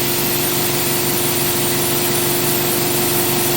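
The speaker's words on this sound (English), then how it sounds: "that was my pretty quiet compressor just started up then over the back there" A fairly quiet air compressor runs steadily in a workshop where a 100W laser cuts plywood, giving a constant loud mechanical hum with a droning low tone and no pauses.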